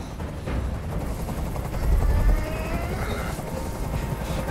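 A helicopter hovers nearby in the video game Detroit: Become Human, a rumbling, choppy low drone with a steady thrum that swells slightly midway, mixed with faint game ambience.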